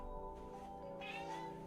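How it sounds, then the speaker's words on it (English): An indoor cat meows insistently in one drawn-out, fairly faint cry over quiet room noise. "we got a cat yelling at me"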